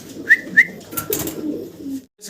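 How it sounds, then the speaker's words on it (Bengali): Fieldback pigeons on a farm give two short cooing calls in quick succession, close and clear, followed by soft rustling and movement noise. "দর্শক আমরা ফিল্ডব্যাক কবুতর দেখতেছি এখানে দুই দুই পিস আছে"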